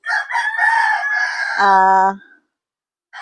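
A frizzle chicken crows loudly and close by in a garden, a single drawn-out call ending in a clipped tone, followed by a short pause and the start of another cluck.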